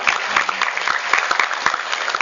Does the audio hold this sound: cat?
no